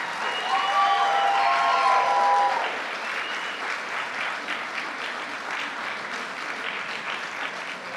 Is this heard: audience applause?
yes